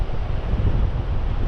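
Strong wind buffets the microphone on Prestatyn beach in North Wales, a loud continuous low rumble with surf washing faintly underneath, brief and without speech.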